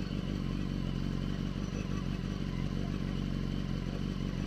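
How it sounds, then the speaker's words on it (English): A BMW HP4 motorcycle fitted with an Akrapovic exhaust idles close by at about 2000 RPM, a steady, dense low engine drone with fine clatter that holds constant without revving. "The motorcycle is very close to 2000 RPM idling."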